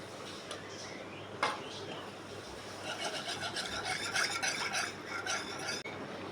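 A hand whisk beats sweet yogurt in a bowl, making a steady, close scraping and swishing that quickens and grows denser after a brief start, running continuously to the end.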